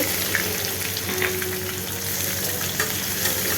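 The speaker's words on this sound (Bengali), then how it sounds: "তারপর একটু কারি পাতা, তারপর দেবো পেঁয়াজ কুচি।" Curry leaves and chopped onion fry in mustard oil, giving a dense, even sizzle that stays loud and close for the whole stretch, with faint clinks over it.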